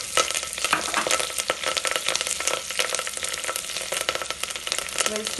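Curry leaves crackle and sizzle loudly in hot oil for a home-cooked beans and carrot dish, a dense, continuous spattering fry up close.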